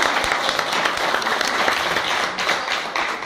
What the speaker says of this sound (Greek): Τώρα χειροκροτήστε.